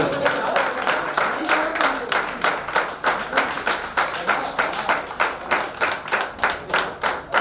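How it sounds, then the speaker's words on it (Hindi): Sustained rhythmic clapping from an audience at a JCI national president's meeting in Jaunpur, steady and fairly close, a dense run of hand claps with no talk over it. "जब तक सर अपनी सीट नहीं लेते हैं तालियों की आवाज कम नहीं होनी चाहिए।"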